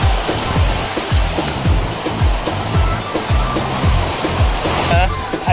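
Muktai waterfall roars as rushing water pours steadily, a loud, close, unbroken torrent with rhythmic low surges throughout.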